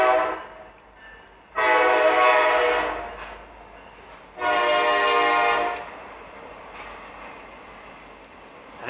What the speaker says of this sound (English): I still hear the loud noise of a lovely train rolling down the track